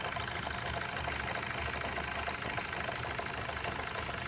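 A small Empire No.32 toy steam engine mounted on a board runs with a faint, even mechanical chatter and hiss, steady throughout and unaccompanied by speech.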